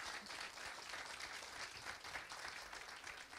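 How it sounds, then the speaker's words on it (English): A room of people at a management committee workshop award gives a round of applause, continuous even clapping from a modest group, fairly distant and quiet. "So I think there should be a bigger round of applause"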